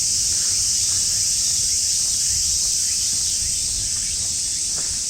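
Dense, steady shrill drone of cicadas in Ueno Park, Tokyo, on a summer day, loud and continuous with no pauses, a faint low rumble of the surroundings underneath.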